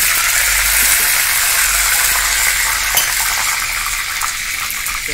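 Oil poured into a hot wok, sizzling loudly and steadily throughout with a bright hiss and a faint stirring texture, no voices.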